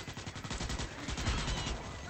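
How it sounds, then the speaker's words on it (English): Rapid, dense bursts of explosions and gunfire-like blasts crackle and thump continuously in the sci-fi shooter Starship Troopers: Extermination, a steady barrage with no voices over it. "Yay, explosions."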